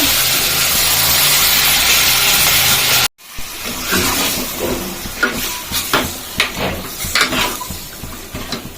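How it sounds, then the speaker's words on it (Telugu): Onions fry in a pan until reddish-brown, first as a steady, loud sizzle, then after an abrupt break as irregular scraping, stirring and metallic clinks of utensil against pan. "ఇక ఉల్లిగడ్డ మంచి ఎర్ర వేగింది కదా"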